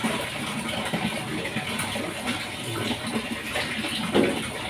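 A kitchen strainer is rinsed under a running tap, water splashing steadily and continuously at close range with occasional louder gushes, no talking.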